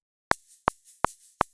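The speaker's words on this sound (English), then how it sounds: "But with this shaker, it just sounds like this." A shaker sample in a cozy ambient indie track, four crisp, evenly spaced shakes, each with a soft trailing swish, quiet and isolated against silence.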